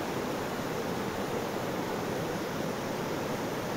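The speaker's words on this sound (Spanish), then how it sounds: "Miren qué bonito viene el río." Río Sumpul flowing near a swirling pool by a hanging footbridge, a steady broadband rush of water with no pauses, filling the whole clip.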